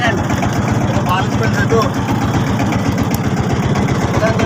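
A boat engine chugs in a steady rhythmic idle on a boat trip in the rain, with people talking over it.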